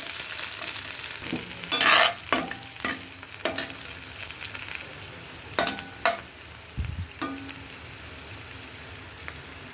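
Onions, green chillies and curry leaves sizzle steadily in a pan with broadband frying hiss, punctuated by several sharp stirring scrapes and clanks, with one louder burst near the start.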